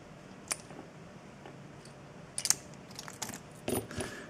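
An Assa Desmo mini padlock, a key-retaining lock, being unlocked with its key: small metallic clicks and clacks, quiet at first, then a cluster of sharper snaps near the end, close up with no talk.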